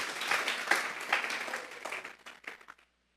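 A church congregation applauds in a warm, moderately loud wash of clapping that builds briefly, then thins out and fades to silence at the end.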